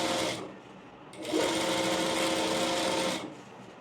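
A sewing machine stitches a saree fall in two bursts, a short run and then a longer steady whirring run after a brief pause, close and fairly loud.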